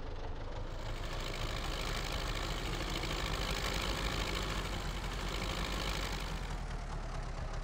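The engine of a small tractor in Farming Simulator 19 runs at a steady, dense rumble with a rough, knocking texture, loud and constant throughout with no talking.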